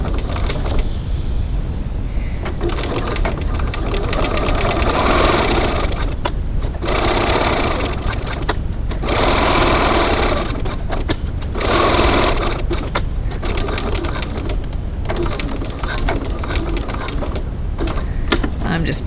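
Sewing machine stitching back and forth to back tack a seam on a small wallet, a steady mechanical whirring in repeated bursts with brief pauses between runs.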